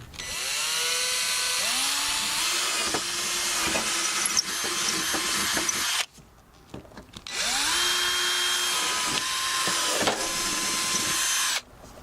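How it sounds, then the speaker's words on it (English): Power drill boring into the front end of a car, two long loud runs of about six and four seconds with the motor pitch rising and falling as it bites, separated by a brief pause. "so let's get drilling"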